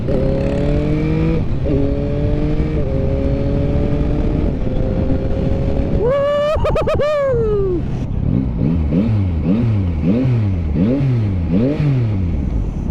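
Yamaha MT-09 motorcycle, a 2022 model, accelerating on a ride, loud and close: engine pitch climbs through several gear pulls, then a sharp rev burst, followed by rapid rising-and-falling throttle blips.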